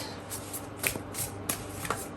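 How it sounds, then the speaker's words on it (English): Tarot cards being shuffled by hand, giving soft repeated riffling and a few sharper card slaps over a low background hum, close and fairly quiet. "These cards shuffle weird today for Marlene."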